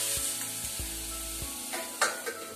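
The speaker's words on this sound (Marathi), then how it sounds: "आणि चांगलं मिक्स करून चांगलं तेल सुटेपर्यंत परतून घेऊया आपण।" Malvani roasted onion-coconut masala sautéing in oil in a pan, giving a steady close sizzle broken by a few soft stirring knocks and scrapes, with no talking.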